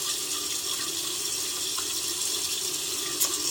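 A faucet runs steadily into a sink as face cleanser is rinsed off during a morning skincare routine: an even, continuous rush of water close by, with no talking.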